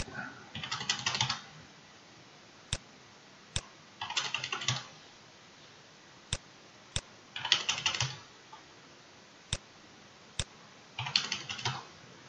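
Computer keyboard typing in Revit software while modelling a folded plate roof, heard as bursts of rapid keystrokes alternating with single sharp isolated key clicks, close and fairly quiet, with no talking.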